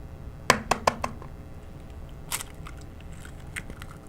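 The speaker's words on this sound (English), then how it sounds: "this is the part where you're going to crack the egg" An egg is cracked for brownie batter: a quick cluster of sharp shell taps and cracks up close, followed after a short pause by a softer crackle and a few faint clicks.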